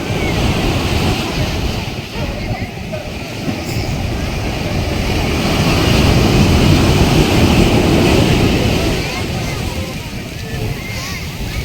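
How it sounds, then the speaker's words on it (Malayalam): Big ocean waves break on a beach beside a floating bridge, a loud continuous roar of surf that swells and recedes with wind buffeting the microphone. "ശ്രദ്ധിച്ചോ, വലിയ തിരമാല കേട്ടോ വരുന്നത്."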